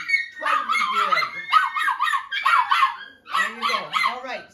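A litter of young puppies yipping and whining in high, overlapping cries, close up and nearly continuous with brief pauses.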